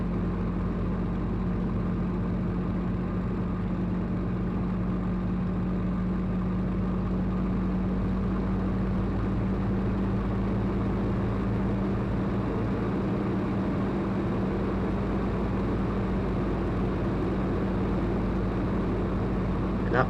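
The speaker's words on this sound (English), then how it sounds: "he pulled this plane almost over just into this wing over maneuver, into a dive" Spitfire MJ627's piston engine drones steadily and loudly from inside the cockpit through a wing-over maneuver into a dive, with no voices over the constant roar.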